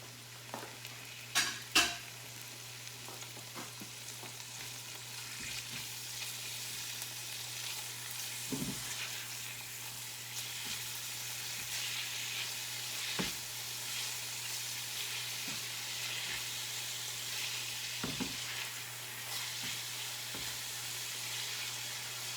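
Codfish sautéing in a pan, a soft steady sizzle running throughout with a few clinks and scrapes early on and occasional light taps, close but fairly quiet, with no talking.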